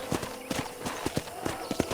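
Horse hooves clip-clop at a steady walking pace in the video game Red Dead Redemption, close and distinct, a regular rhythm of hoof strikes over a faint background hum.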